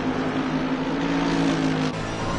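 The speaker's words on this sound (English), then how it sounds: "And the sound of that thing, that V8." A V8 race car engine in Assetto Corsa Competizione holds a loud, steady drone throughout, with a brief dip in pitch near the end as the engine note shifts.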